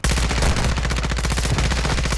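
Gunfire in Call of Duty Modern Warfare II: a continuous, dense stream of rapid automatic shots, loud and close, with heavy low-end boom running without a break.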